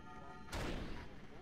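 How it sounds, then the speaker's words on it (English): A single heavy bang on a door in the video game Resistance Retribution, a loud sudden impact that rings and decays over a faint tonal background hum. "What's banging on the door?"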